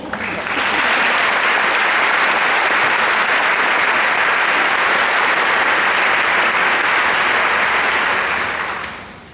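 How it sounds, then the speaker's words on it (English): A school convocation audience breaks into loud, dense applause for honored student guests, rising quickly, holding steady for several seconds, then tapering off at the end. "Please extend a round of applause for our honored student guests."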